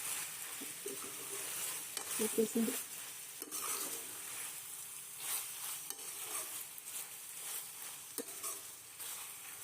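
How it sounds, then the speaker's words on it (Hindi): Tomatoes being stirred into chicken jalfrezi frying in a pan give a soft, steady sizzle with a few clinks and scrapes of the spoon, quiet and close. "अब जो है हम इसमें टमाटर ऐड कर देंगे। इसको मिक्स करेंगे अच्छे से।"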